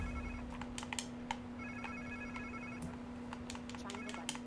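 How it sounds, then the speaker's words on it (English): Cell phone ringing in Marvel's Spider-Man 2: repeated short electronic ring tones over a steady hum and scattered clicks, moderately close, with speech in the background. "Sounds like somebody's phone."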